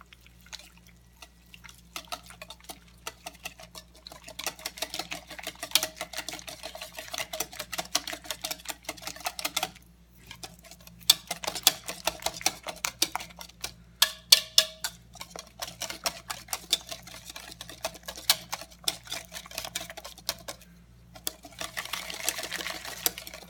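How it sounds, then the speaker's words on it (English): Chopped dill is whisked into a potato salad sauce in a bowl, making rapid, close clicking and tapping in long bursts, with brief pauses partway through. "I'm going to whisk that together."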